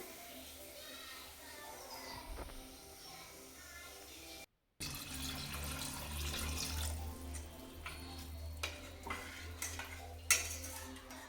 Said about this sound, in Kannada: ಇವಾಗ ಇದಕ್ಕೆ ಒಂದೂವರೆ ಲೋಟ ನೀರು ಹಾಕ್ತಿದ್ದೀನಿ